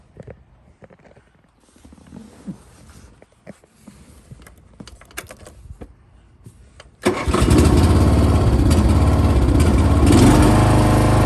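A riding lawn mower with a rusted, welded deck fires up after a few seconds of faint clatter and cranking, then holds a loud, steady engine roar close by.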